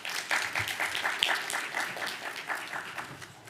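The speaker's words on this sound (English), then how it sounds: "Please help me give them a round of applause." Steady audience applause at a panel event on industry apprenticeship programs, many hands clapping together with a mild swell near the start and a gradual fade toward the end, no talking over it.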